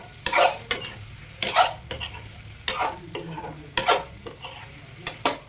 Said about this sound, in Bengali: সয়া সস দেওয়ার পর একটুখানি ভিনেগার দিয়ে, এটা পরিমাণ হবে সমান সমান, অলমোস্ট দু চামচ ভিনেগার হলে 2 চামচ সয়া সস, এই পরিমাণ মতো দিয়ে আমি ভালোভাবে নাড়িয়ে নেব।